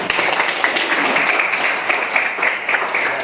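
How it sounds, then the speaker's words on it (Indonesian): A classroom group claps together during a chemistry lesson on ionic bonding, a dense, steady patter of many hands close by with no voices over it. "Tepuk tangan dulu semuanya."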